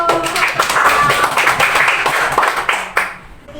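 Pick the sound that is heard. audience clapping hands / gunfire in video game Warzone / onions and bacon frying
audience clapping hands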